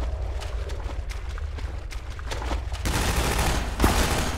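Rapid bursts of gunfire in the video game Half-Life 2, crackling fast and steady before the firing thickens into a denser, heavier volley with one sharp louder shot near the end.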